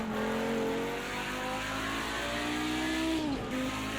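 An Audi Group B Quattro engine in the Project CARS 2 racing game at Bathurst, heard as a loud, sustained rev that climbs steadily, then drops briefly at a shift before pulling again, with no voice over it.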